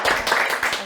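An audience applauds at a talk event, a short burst of dense, bright clapping heard close and loud.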